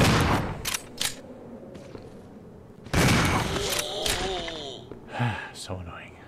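Gunfire in the video game Resident Evil 0: a few loud, sharp shot bursts near the start and another cluster partway through, mixed with a voice talking and in-game sounds.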